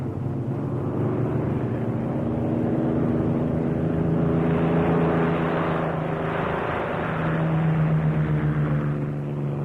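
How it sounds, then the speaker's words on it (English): World War II military fighter aircraft returning from a mission near Naples, a loud, steady droning engine roar with layered humming tones that holds without a break, no voices present. "The aircraft that provided cover over the assault area itself returned from their mission."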